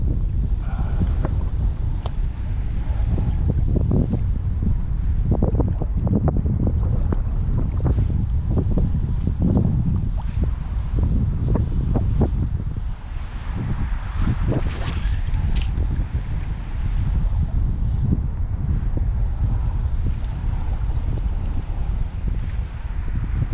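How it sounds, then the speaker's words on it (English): Strong gusty wind at night on a salmon fishing trip, roaring and buffeting a microphone in repeated surges with loud rumbling bursts and brief lulls between gusts. "Bad in between the gusts."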